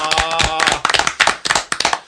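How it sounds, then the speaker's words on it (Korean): Studio audience clapping to welcome a guest onto a Korean talk show, a loud burst of brisk, uneven hand claps heard up close with a faint tonal hum beneath at the start. "박수로 초대 손님을 맞은 건 처음입니다"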